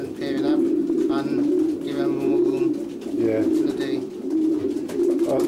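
Racing pigeons in a loft cooing steadily, a low repeated throaty purr that runs throughout, close and prominent, with faint voices talking underneath.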